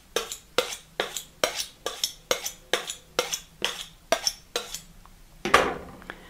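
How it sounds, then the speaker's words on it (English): Chef's knife blade drawn repeatedly over a sharpening steel at a steady rhythm, about a dozen crisp metallic swipes close up, ending with a louder ringing stroke. "draw the blade over and under like that with the knife at about a 20-degree angle to the steel"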